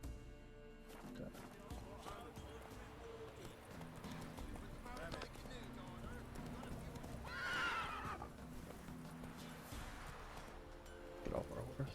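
In The Witcher 3 video game, a horse whinnies over clip-clopping hooves and game ambience, with a person talking faintly underneath.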